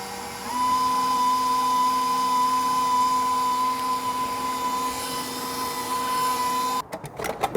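An electric mixer whips cream with a splash of bourbon, giving a steady high whine for several seconds before cutting off into a few brief clatters.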